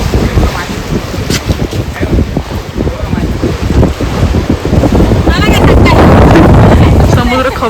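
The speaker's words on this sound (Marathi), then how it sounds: "समुद्र खवळलेला आहे बऱ्यापैकी. पावसाळ्याचे दिवस आहेत ना त्याच्यामुळे. लाटा धडकतात बघ कशा." Rough monsoon sea waves crash against the rocky shore at Dona Paula in Goa, a loud, continuous roaring wash with heavy wind buffeting the microphone and a surge building toward the end.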